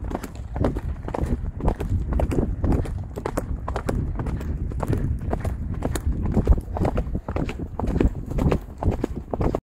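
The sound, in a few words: horse galloping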